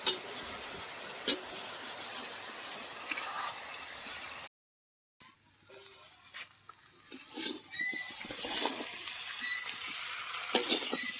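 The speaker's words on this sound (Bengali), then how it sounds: "ঢাকনা খুলে ভালো করে কাঁঠালটাকে ভালো করে নেড়ে নেব।" Pieces of jackfruit stirred and fried in an uncovered pan: scattered scraping knocks of the spatula, a short silent break, then a rising sizzle with more clattering stirs, close and moderately loud.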